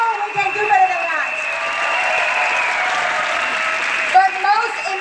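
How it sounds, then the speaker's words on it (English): Applause from an audience at a company event builds into a steady wash of clapping in the middle, with a voice speaking over it at the start and again near the end. "Come on, a big round of applause, please."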